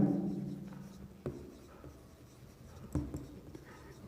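Chalk or marker scratches on a classroom board during a biology lesson, faint scraping strokes with a couple of sharper taps, quiet and close with no voices.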